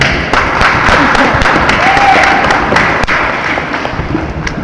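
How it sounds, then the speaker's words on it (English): Applause at a longsword tournament during the finals, dense clapping spread through a large hall with occasional thuds, steady and fairly loud from start to finish. "A big round of applause to Doc Lennox and Jack Huff."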